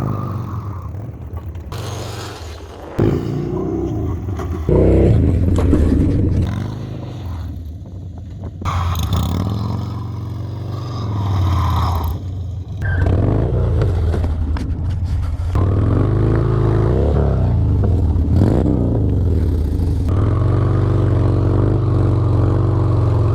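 A Harley Dyna motorcycle doing drift donuts, its engine roaring and revving at varying pitch while the tyre scrubs, loud and sustained with brief drops, no talking.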